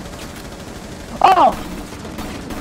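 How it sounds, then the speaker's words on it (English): Gunfire in Rainbow Six Siege, heard as one short, loud burst of shots in the middle, with someone talking briefly around it. "Yo, what are with all these gunshots, bro?"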